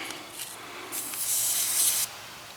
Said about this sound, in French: Une fois qu'on a entendu l'air sortir